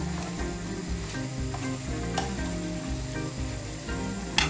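Cabbage cut into large square pieces fries in a hot pan for Chinese restaurant-style mixed vegetables, making a steady, dense sizzle with soft clatter throughout and a sharper knock at the end.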